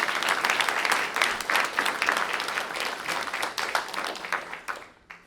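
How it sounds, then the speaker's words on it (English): An audience at a public hearing in Lexington gives a round of applause for the expert panel, a full burst of many hands clapping that holds steady, then tapers off and fades out near the end. "Can we have one more round of applause, please, for our experts today?"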